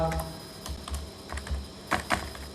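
Keyboard typing on a computer during an Excel data-entry lesson, a quiet run of several soft key clicks with a couple of louder taps near the end, over low background hum.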